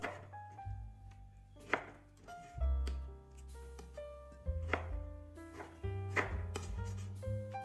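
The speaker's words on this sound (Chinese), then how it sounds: "把番茄切成小块备用。" A knife chops tomatoes into small pieces on a cutting board, with distinct thunks in uneven bursts, close and clear, over soft background music.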